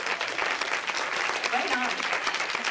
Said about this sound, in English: Can we do a round of applause, please?